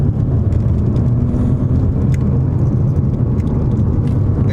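A 2014 Audi A6, 220 horsepower and front-wheel drive, with its engine note rising after a manual downshift: a loud, steady low drone from inside the car with no talk.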